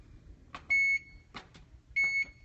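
Two long steady electronic beeps from an oven while the bake temperature is set to 350 and a timer is entered, each following soft clicks of button presses, close by with no talk.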